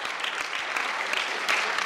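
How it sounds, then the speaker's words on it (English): An audience claps steadily and densely, a continuous close patter of many hands. "Just keep clapping"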